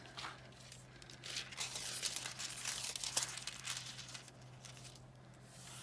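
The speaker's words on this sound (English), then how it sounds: "you would just lay down the foil on top of this adhesive. So I'm going to use the rose gold." Thin rose gold foil being laid down and pressed onto a layer of craft adhesive makes a soft, continuous crinkling and rustling close by, swelling in the middle and then easing off, with no voices.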